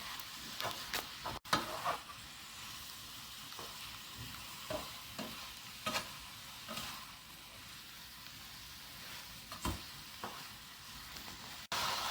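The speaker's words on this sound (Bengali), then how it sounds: "অল্প আঁচে রেখে নাড়তে হবে।" Food frying gently in a pan over low heat, a quiet, low sizzle broken by occasional scraping clicks as it is stirred, heard close up with no speech.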